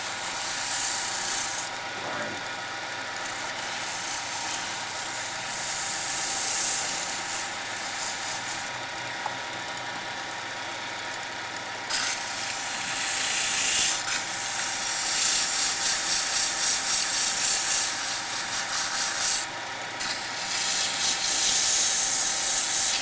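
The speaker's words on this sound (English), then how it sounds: "Let me see if I can sand out a little bit of the roughness here and here." Sandpaper rubbing against a spinning wood turning on a lathe, a steady hissing, scratchy drone that runs continuously, swelling and easing as the pressure shifts, with faint motor hum beneath and no speech.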